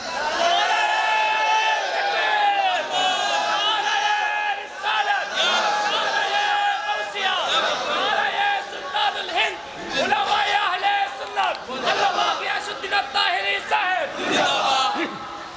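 A large crowd at a religious sermon shouts a slogan in unison, loud and close, with repeated chanted bursts and cheering rolling on continuously.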